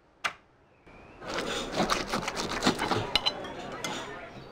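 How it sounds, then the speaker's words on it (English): Clinking and scraping restaurant sounds in The Simpsons: Tapped Out game, like cutlery cutting through steak, a busy run of metallic clatter and taps after a sharp opening tick. "it sounds like they're trying to cut through a steak"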